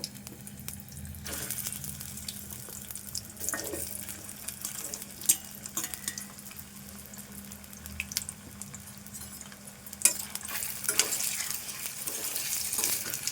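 Washed potatoes frying in a pan, a soft continuous sizzle with intermittent stirring scrapes and clinks, fairly quiet and close, with no one talking.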